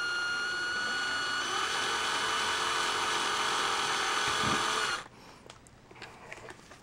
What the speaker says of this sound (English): just drill on the inside one little pressure relief hole